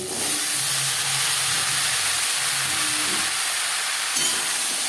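Bottle gourd cooks in hot oil with cumin and green chillies, giving a steady, even sizzle and steamy hiss that holds close and constant throughout.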